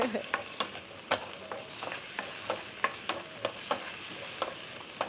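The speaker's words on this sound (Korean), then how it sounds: "이렇게 해서 간장을 좀 넣어주세요. 이걸 볶아요. 아, 소리. 소리가 벌써부터 맛있네요." Soy sauce stir-fried in a hot pan gives a loud, continuous sizzle, with regular scraping and tapping strokes of the spatula close by.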